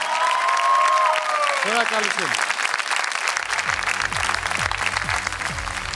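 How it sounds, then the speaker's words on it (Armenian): Sustained applause from a studio audience at a televised singing-competition gala fills the clip, loud and steady, with a presenter's voice and brief tones over the start. "ձեր ծափարությունները"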